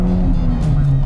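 A 1995 Toyota Celica coupe's engine revs close by, giving a brief, loud, humming drone whose pitch shifts slightly.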